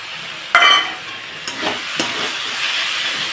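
Ginger and cumin paste sizzles as it is stirred into a fish-head curry: a steady hiss runs throughout, broken by a sharp scrape near the start and a few lighter stirring clicks, with no talking.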